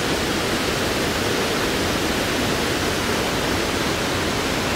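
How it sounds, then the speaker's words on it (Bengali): Steady, dense rush of water from a waterfall spilling down below a hilltop temple, an even broadband roar close by and unbroken for the whole stretch, with no voices over it. "আর ঝর্ণাটা কিন্তু এইখান থেকেই নিচের দিকে নেমে গেছে।"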